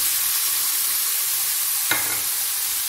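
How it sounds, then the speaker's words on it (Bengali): Chili, capsicum and cauliflower fry in a pan with a steady, loud hiss of sizzling oil, broken by one sharp clatter of stirring near the middle, with no voices. "সব কিছু ভালো করে ভাজা ভাজা করে নেব।"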